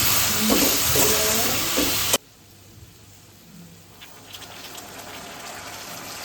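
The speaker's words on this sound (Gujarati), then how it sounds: "સ્વાદ પ્રમાણે મીઠું ફરીથી મિક્સ કરી લેશું બધું ભેગું નાખી દેવાનું" Cluster bean curry sizzles loudly in a pan while being stirred, then the sound drops abruptly to a quieter simmer with occasional faint scrapes.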